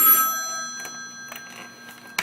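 An office telephone at an animal shelter rings with steady electronic tones that run through the whole stretch, fairly close and clear, with faint background bumps.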